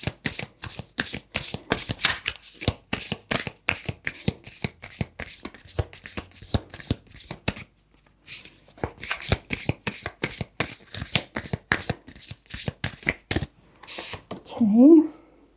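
A deck of cards is riffled and shuffled by hand for a card reading, giving rapid bursts of crisp flicking that stop and restart, with a short pause partway and a brief thump near the end.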